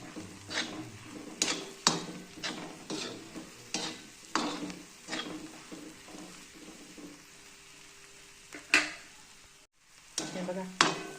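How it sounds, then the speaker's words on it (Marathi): Peanut thecha being stirred and roasted in a pan over low gas, a spoon scraping and tossing it in repeated rhythmic strokes with a soft background sizzle, close and fairly quiet. "असं परतवत राहायचं।"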